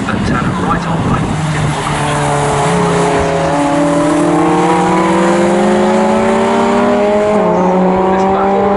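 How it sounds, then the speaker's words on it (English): Classic Ferrari racing cars in a close three-way battle at Snetterton circuit, several engines roaring together with rising and shifting gear pitches, loud and sustained throughout. "A superb three-car battle coming through onto the centre straight."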